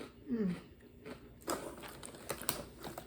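Crunchy Earth Balance vegan cheddar flavor squares being chewed up close, with a run of small crisp crunches and bites, fairly soft and with no talking.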